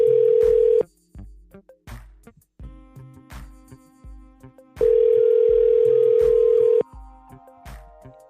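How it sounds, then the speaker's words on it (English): A phone call placed from a second phone during a live stream: steady tone bursts ring out at about one second and again for two seconds mid-clip, with quieter pulsing tones and line noise between them and no talk. "Let me call Deuce back"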